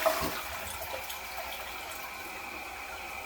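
A hotel room toilet flushes, a steady rushing hiss of water draining and refilling the bowl that continues evenly throughout, close and moderately quiet.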